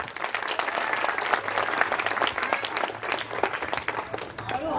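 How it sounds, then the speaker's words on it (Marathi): An audience at a magic show during a youth camp in Usgaon breaks into sustained, lively clapping that fills the room, with a voice faintly heard over it. "हा, जोरात टाळ्या."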